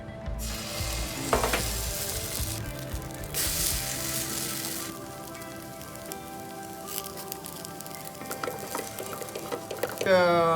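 Uttapam batter sizzles in coconut oil on a hot pan, a steady crackling hiss throughout with a few louder bursts and clinks of utensils, and no one talks over it.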